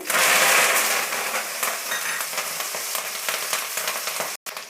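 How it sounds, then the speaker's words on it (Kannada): Fresh curry leaves dropped into hot oil for green masala mandakki, giving a loud, dense crackling sizzle that is strongest at first, then settles into a steady hiss before a brief cutoff near the end. "ಎಣ್ಣೆ ಬಿಸಿಯಾಗಿದೆ ಕರಿಬೇವಿನ ಸೊಪ್ಪು ಹಾಕ್ತಾ ಇದ್ದೀನಿ ಮೊದಲಿಗೆ"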